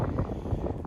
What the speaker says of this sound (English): Sorry for the wind, it's a little windy.